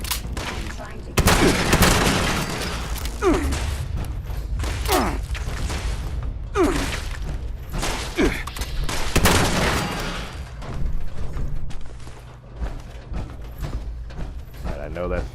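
Gunfire in Fallout 76, a series of loud spaced shots with booming tails and mechanical clicks from the weapon, close and repeated across the clip over game ambience, no voices.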